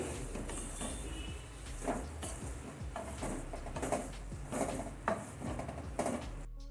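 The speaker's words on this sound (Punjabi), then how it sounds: "ਹੁਣ ਅਸੀਂ ਤੜਕੇ ਦੇ ਵਿੱਚ ਆਲੂ ਮਿਕਸ ਕਰ ਦੇਵਾਂਗੇ" Potatoes for a fasting-style dish are stirred into hot tempering in a pan, with repeated scraping and clanking of a utensil against the pan in uneven strokes, close and moderately loud.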